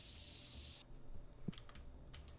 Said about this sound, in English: you press R to activate your spray, and then you left click to spray